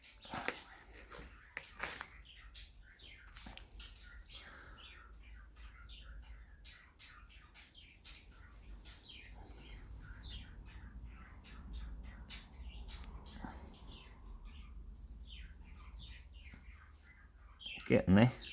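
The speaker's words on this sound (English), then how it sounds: "Hope you don't mind the sounds of the birds in the background. My budgie had babies," Small budgies, including babies, chirp and squawk in short scattered bursts, fairly faint and continuous, with occasional louder calls and some background clatter.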